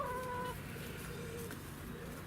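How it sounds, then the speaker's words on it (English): Chickens at an allotment clucking, a few short soft clucks and a brief higher call over a constant hum of background noise. "I've had a few questions about the chickens. They're doing really good. There's 4 out here at the moment."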